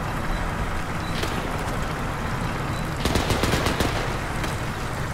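Bursts of machine gun fire in the military shooter Arma 3 crackle through a loud, dense background rumble, with a rapid cluster of shots around the middle of the stretch.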